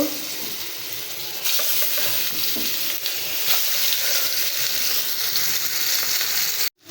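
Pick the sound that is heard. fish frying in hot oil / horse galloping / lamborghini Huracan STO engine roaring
fish frying in hot oil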